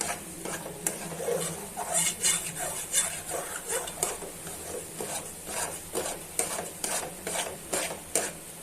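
Besan halwa is stirred and roasted in a pot after it has soaked up all its syrup, a ladle scraping the metal in fast, rhythmic strokes over a soft sizzle, close and continuous throughout.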